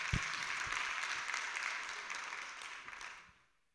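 A crowd at an international memorial day event for the victims of the Joola ferry gives steady, moderately loud applause that continues evenly and then fades out toward the end.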